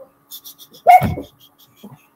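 Dogs give a short burst of vocal noise, a bark-like yelp with some panting and small whimpers around it, close and brief amid quiet.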